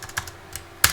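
Quick keystrokes on a computer keyboard while a number is entered into mapping software, three or four light taps ending in a sharper, louder press, close and alone.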